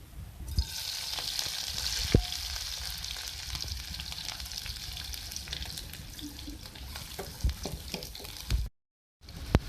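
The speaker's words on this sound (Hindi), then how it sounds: "देखिए, मैंने इसमें ऑयल डाला है। अब मैं इसमें प्याज डालूँगी।" Chopped onions hit hot oil in a pan and set off a steady, fairly close sizzle with scattered crackles and occasional clinks, ending in a brief cut to silence.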